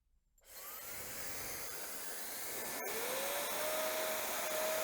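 A Gamma IQ hair dryer with a fairly low-powered motor switches on and spins up, settling into a steady, close, loud airy whoosh with a rising whine, broken by one brief click partway through.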